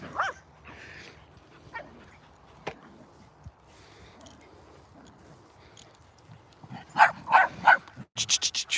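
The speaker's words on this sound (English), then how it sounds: "We don't need any barking, thank you." Several dogs on a walk let out a few scattered yips and whimpers, then a burst of louder, close barks near the end.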